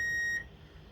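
A kitchen timer beeps with a steady high electronic tone for the first part of the moment and then stops, leaving low room noise, while cast iron cornbread is checked with a toothpick.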